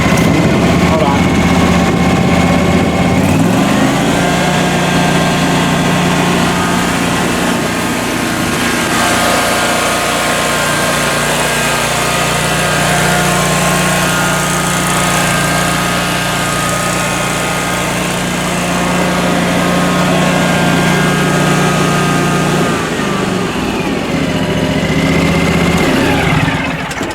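A 2019 John Deere 652R QuikTrak stand-on mower engine runs loud and close throughout, rising in pitch and settling back as it idles and revs, with someone talking over it.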